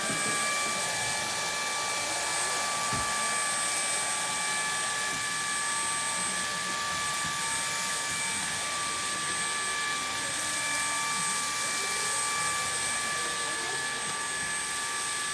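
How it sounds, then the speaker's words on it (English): A MOOSOO K24 cordless vacuum cleaner running on high over a rug: a steady, continuous motor whine with a high airy hiss, holding constant throughout with no talking. "this is on low, so now I'm gonna go on high"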